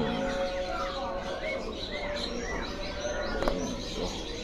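A caged oriental magpie-robin sings among other birds in a shop, with sliding whistled phrases over a dense, steady background of chirps and coos.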